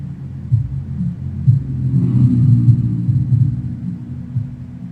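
A muffled nightclub bass thump heard from inside a passing car, a Payday 2 game sound: deep, throbbing low beats that swell toward the middle and then fade, with no voices.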